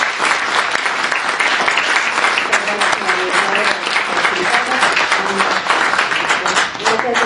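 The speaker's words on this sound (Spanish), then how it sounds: "Pero un aplauso a María." Sustained audience applause fills a book presentation at the Guadalajara book fair, dense and loud throughout with voices faintly mixed in.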